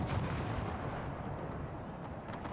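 Artillery guns firing in Napoleon Total War Era mod, heard as a dense continuous rumble of distant cannon fire and booms rolling together without clear separate shots.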